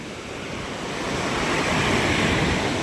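Large waves crash and surge at a fish terminal in Tanza, Cavite after a typhoon, a loud, continuous roar of surf and spray that builds steadily, with wind buffeting the microphone.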